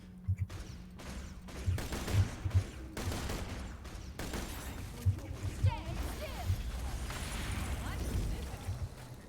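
Automated turrets fire guns in the Borderlands video game, bursts of gunfire and impacts with loud peaks repeating over a dense, busy battle mix. Voices talk over the shooting.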